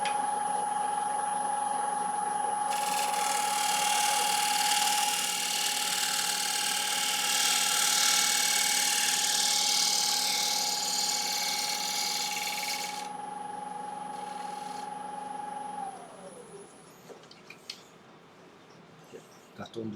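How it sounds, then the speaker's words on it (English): A light shear scrape across a wood platter spinning on a lathe gives a steady, close hissing scrape over the lathe's motor whine, then the motor winds down. "So I'm just going to give this a little light shear scrape"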